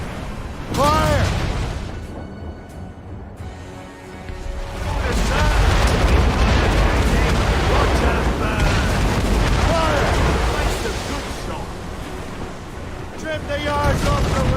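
Naval cannon broadsides from a sailing warship in Assassin's Creed Rogue, deep booms rolling over wind, crashing surf and a ship's creaking, with shouted crew voices and a battle din that surges and stays loud throughout.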